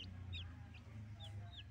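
Two-week-old rainbow-dyed chicks let out a handful of thin, high peeps, scattered irregularly and fairly close, over a soft low hum.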